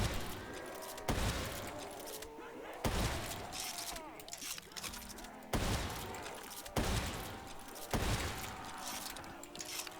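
About eight sharp gunshots ring out from a video game firearm at irregular intervals, each a loud crack with a short ringing tail, one pair fired in quick succession.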